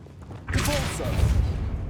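A Convulso spell blast from Hogwarts Legacy erupts suddenly after a brief lull, a loud, broad burst with a whooshing rumble that holds steady for over a second.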